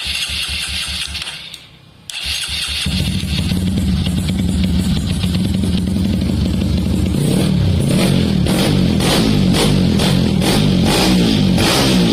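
A Honda CRF motorcycle engine starts after a brief pause, then idles and revs hard toward high RPM, a loud, close, continuous roar that climbs in pitch with rapid rhythmic pulses.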